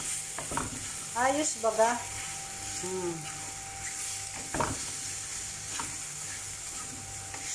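Ampalaya with egg sizzles steadily in a frying pan while a utensil stirs it, producing close, continuous frying crackle; a person speaks briefly over the cooking.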